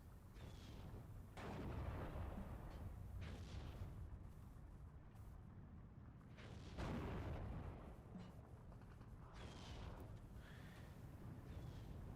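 Mortar fire in the World War II strategy game Steel Division 2: several deep, rumbling booms roll through a continuous battlefield din, with a few sharper swells standing out over the low roar.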